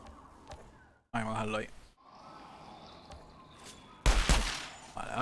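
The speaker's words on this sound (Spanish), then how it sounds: "Se escuchan muy fuerte los disparos." Gunfire in the video game Outriders, short bursts of shots at two points amid quieter game ambience, with a character's voice heard between them.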